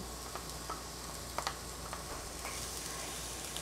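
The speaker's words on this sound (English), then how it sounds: "So right now we're going to go ahead and add the garlic and the onions" Garlic and onions sizzle in a hot pan with a steady, close hiss and a few faint ticks of the pan.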